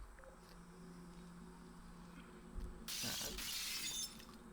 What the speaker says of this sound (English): Oh, that broken glass.